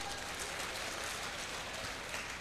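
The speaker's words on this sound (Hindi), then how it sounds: "तालियां तो बजाइए एक बार।" Audience applause at an annual day celebration after a dance performance, a steady dense wash of clapping from a crowd, moderately loud and continuous throughout.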